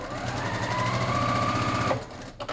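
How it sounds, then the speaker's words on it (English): A sewing machine with a quarter-inch foot stitches quilt units in a steady, loud, close mechanical whir for about two seconds, then stops abruptly and falls quiet. "I'm going to sew each unit."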